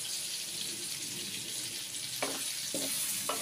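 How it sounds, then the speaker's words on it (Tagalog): Pork sautéing with onion, garlic and tomato gives a steady, soft sizzle and hiss throughout, with a few faint clinks or stirring knocks near the end; no one speaks. "Inisa ko na siya guys sa sibuyas, bawang at kamatis."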